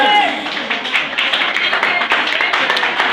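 Wedding guests at a ceremony in Haiti applauding the newly married couple, steady close clapping from many hands that runs throughout with a crowd murmuring underneath.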